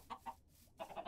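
Chickens in the Minecraft video game clucking in two short bursts, then a brief quiet gap before a quicker run of clucks, moderately close and fairly soft with no talk.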